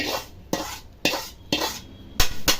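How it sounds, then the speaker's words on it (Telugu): Semolina for upma being stirred and fried in a pan, heard as a run of sharp utensil scrapes and knocks spaced about half a second apart, close and fairly loud with a soft sizzle between strokes. "మంచిగా కలుపుకుంటూ ఫ్రై చేసుకోవాలి."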